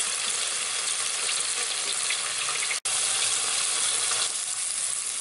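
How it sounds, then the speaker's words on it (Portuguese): Garlic browns in a pan with a steady, close sizzle and fine crackle, broken by one brief dropout midway, with no talking. "Vou dar uma douradinha aqui no alho."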